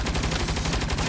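Mounted turret in Saints Row firing a fast, evenly spaced burst of loud, close gunshots that pulse rapidly through the whole short stretch with no talking.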